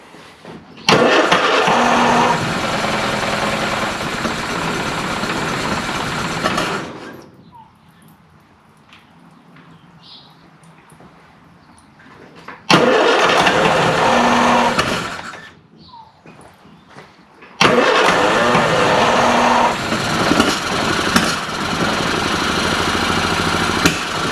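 A classic Mini van's engine, off the road for 25 years, is cranked hard in three long bursts of loud, rough starter churning, separated by quiet pauses with faint sounds of a workshop.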